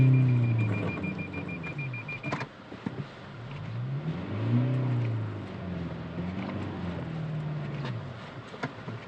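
A small car stuck in a snowdrift revs its engine repeatedly, the pitch rising and falling in swooping surges with brief pauses between, loud and close with no speech.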